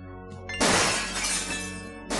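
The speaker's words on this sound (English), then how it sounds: "Gabriel hears the faint sound of breaking glass." Glass shatters in the Gabriel Knight adventure game: a sudden bright crash with a tinkling tail, set against a steady tonal music bed, no voices.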